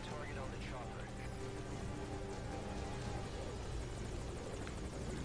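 A helicopter in the video game Metal Gear Solid V: Ground Zeroes holds a steady, droning rotor and engine hum throughout, moderately loud with a layered whine and no breaks.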